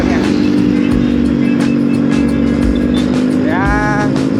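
An old Suzuki motorcycle engine drones steadily while riding on the road, a continuous loud hum with wind noise, and a brief rising tone near the end.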